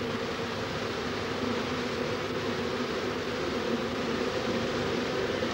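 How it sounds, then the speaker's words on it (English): A honey bee swarm flies around its queen held in a tin, a dense steady buzzing hum that fills the air close by without pause. "taken to the air and flying back onto my hands to stay with the queen"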